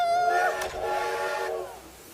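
A train whistle blows in long, steady tones with harmonic layers, fairly loud and continuous for about two seconds.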